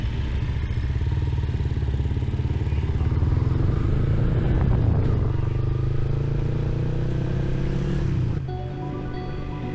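Motorcycle engine running steadily during a scenic countryside ride in Bulacan, with a continuous low drone and wind noise throughout, easing slightly near the end.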